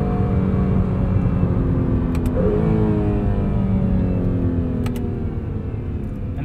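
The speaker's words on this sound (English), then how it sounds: "It transmits just a little bit more engine noise into the cabin." Engine noise fills the cabin of an Acura NSX Type S, a steady droning growl that shifts pitch midway as the car pulls, heard alone without talk.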